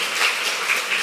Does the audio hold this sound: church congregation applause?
yes